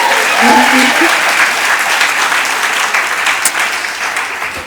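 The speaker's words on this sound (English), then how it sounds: "Yeah, y'all can go ahead and clap for that." An auditorium audience applauds for the poet and educator Nikki Giovanni, a dense, steady wash of many hands clapping that carries through without pause and thins slightly toward the end.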